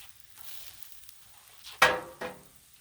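Onions and other vegetables hit a hot Blackstone griddle, giving a faint low sizzle punctuated by two sharp, bright hissing bursts near the end.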